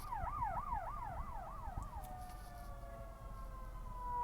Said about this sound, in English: ambulances and fire truck